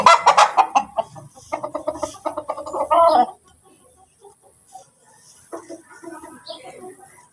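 Farm chickens cluck in a busy, close burst of calls for about three seconds, then softer scattered clucks return after a quiet gap.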